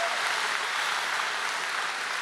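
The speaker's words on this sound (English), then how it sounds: "So can we put on a big round of applause for Michaela?" Steady applause from a conference audience, an even wash of clapping sustained throughout, moderately loud with no voices over it.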